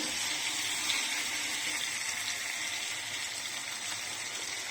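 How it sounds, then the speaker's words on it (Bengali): A little water pours steadily into a pan of fried cauliflower curry, a soft, continuous rushing wash that goes on without a break and without any talking. "ফুলকপিটা একটু সেদ্ধ হওয়ার জন্য অল্প একটু পানি দেব।"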